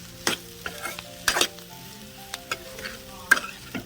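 Ground mixture of sesame, cumin, dried red chilli and garlic goes into a pan of bean curry and fries with a soft steady sizzle, punctuated by sharp spatula taps and scrapes, with no talking.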